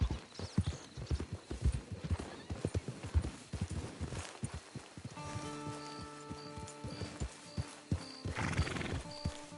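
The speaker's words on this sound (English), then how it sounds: "It's your horse." A horse in Red Dead Redemption 2 neighs and its hooves clip-clop near the camp. Uneven hoofbeats come first, then a drawn-out whinny with light rain pattering behind it.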